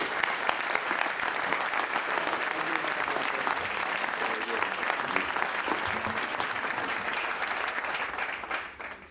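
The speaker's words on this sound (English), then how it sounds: "I'm going to clap." An audience at a maritime shipping leaders forum in Greece applauds, a steady, even roar of many hands clapping throughout that tapers off briefly at the very end.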